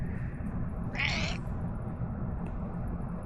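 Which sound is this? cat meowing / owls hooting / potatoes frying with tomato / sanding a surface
cat meowing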